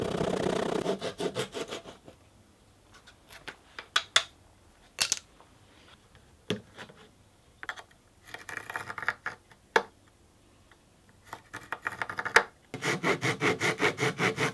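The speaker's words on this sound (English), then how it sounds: "I trimmed the ends to size" Sawing the wooden side ends of a ukulele bass to size, near and clear, with rhythmic rasping strokes at the start and end and scattered knocks and scrapes in between.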